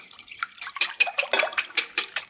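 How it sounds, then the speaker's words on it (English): Three large eggs whisked in a large mixing bowl, a brisk, rhythmic run of clinking strokes against the bowl, close and clear with no talking. "Whisk those up."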